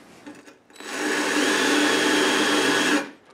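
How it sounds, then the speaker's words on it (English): A powered wire brush works over fresh welds on a Mustang door, a steady loud whirring grind of about two seconds that spins up and then cuts off. "Now that those are welded, you can take a wire brush"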